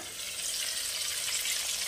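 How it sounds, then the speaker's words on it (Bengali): Boal fish frying in oil in a covered wok, giving a steady, dense sizzling hiss that holds evenly throughout with no speech. "আমি কড়াইয়ের ঢাকনা খুলে মাছটাকে উল্টে দেবো, অপর পিঠটা ভাজতে দেবো।"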